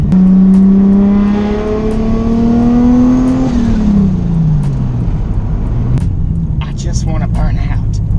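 A big-turbo Nissan R33 Skyline revs hard on the move, its engine note climbing loud and close before dropping and rumbling on, with voices talking over it.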